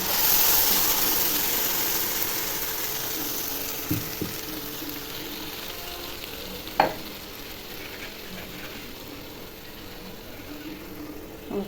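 Ground coconut paste goes into a tomato kurma in a pan, giving a continuous close sizzle that fades slightly, with a few sharp clanks of a utensil.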